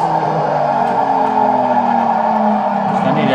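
A car drifting in a driving simulator, its engine revving with sliding tones that rise and fall as the tyres squeal continuously, loud and close, with faint talk in the background.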